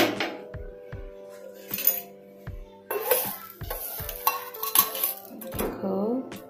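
A metal lid comes off a cooking pot of cluster beans. Close clanks and scrapes of metal and utensils are followed by a soft sizzle, with no talk over them.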